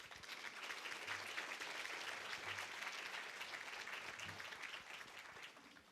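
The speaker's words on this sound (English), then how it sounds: "So let's give a big round of applause to all of our peer-to-peer fundraisers who has helped get us off to this great start." An audience at a fundraising breakfast event applauds peer-to-peer fundraisers, a dense steady round of clapping from many hands, sustained and even throughout before fading slightly at the end.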